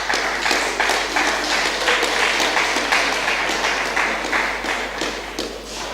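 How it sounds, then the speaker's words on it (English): An audience claps during a speech, steady rhythmic clapping with distinct individual hand hits, loud and continuous throughout. "I thought you were clapping because of my point"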